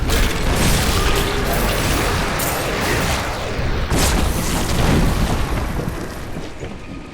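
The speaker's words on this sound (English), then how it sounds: "Exploding enemies. I do not like exploding enemies." Exploding enemies in Diablo 3 combat: a dense, continuous wash of booming bursts and clattering effects that stays loud for the whole stretch, with no clear gaps between blasts.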